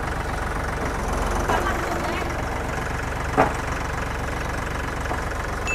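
A tractor with a 12-speed shuttle gearbox idles steadily throughout, its engine running at a constant mid-low rumble with a brief louder knock partway through.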